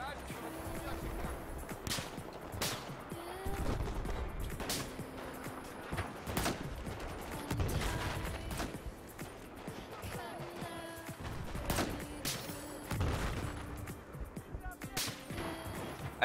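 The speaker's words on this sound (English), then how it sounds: "I may have just sniped that guy the second he fucking spawned as soon as spawn protection wore off" Sniper rifle shots crack out repeatedly in an online shooter game, sharp separate bursts spaced every second or two, mixed under a player's ongoing chatter and game noise.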